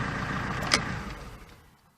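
Alfa Romeo 159 2.0 diesel engine idling steadily just after a slow restart with an empty fuel filter, a low close rumble with a brief click partway through, fading out toward the end.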